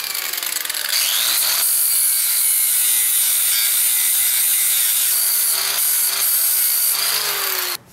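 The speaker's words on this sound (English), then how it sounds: "we're going to take and cut the muffler, like I said, as close as I can with the blade that I have." Power saw blade slicing through an old rusted muffler, a loud continuous gritty rasp with steady whine that runs unbroken for several seconds before cutting off abruptly, with no talk.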